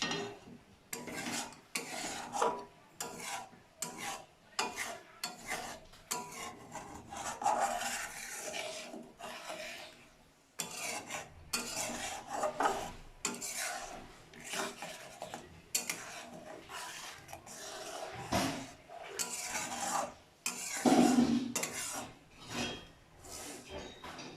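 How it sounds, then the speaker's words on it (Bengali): A spoon works through doi potol, a vegetarian Bengali pointed gourd curry in yogurt gravy, in a pot, making repeated rasping scrapes against the metal in an uneven rhythm for over twenty seconds, close and unaccompanied by speech. "ভালো করে মিশিয়ে দেব।"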